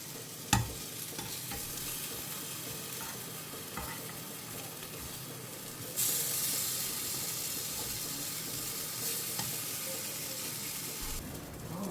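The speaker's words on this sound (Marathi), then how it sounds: "सो आतां न्ही आमी टर्न करून न्ही दुसरे सायडीक फ्राय करून घेवया." Vegetable pieces fry in a pan for a quick side dish, a continuous loud sizzle with a surge partway through and occasional clinks and stirring, no voices.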